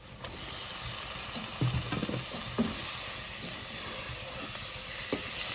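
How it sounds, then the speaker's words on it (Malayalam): Prawns dropped into hot masala for a prawn biryani sizzle steadily, with scraping stir sounds and a few louder clatters in the middle, close and alone. "നമ്മൾ കഴുകി വെച്ചിരിക്കുന്ന നമ്മുടെ കൊഞ്ച് ചെമ്മീൻ നമ്മൾ ഇട്ട് കൊടുക്കുകയാണ്"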